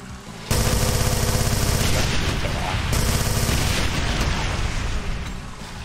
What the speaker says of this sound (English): the minigun obviously has an insane rate of fire